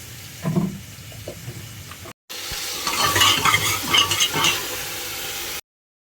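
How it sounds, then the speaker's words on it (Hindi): Chopped tomatoes fry in hot oil inside a pressure cooker, a soft sizzle with a few stirring scrapes at first, then after a short break a louder, denser crackling sizzle and stirring before it cuts off. "उसके बाद मैंने बस इसमें टमाटर डाला था, टमाटर कट करके डाल दिए थे और उनको अच्छे से फ्राई कर दिया था"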